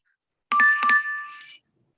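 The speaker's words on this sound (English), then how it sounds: "for those of you who heard the bell, you should have heard a bell" A bell marking the end of an exposure rings once as a two-tone ding-dong chime, clear and fairly close, then fades in an otherwise silent room.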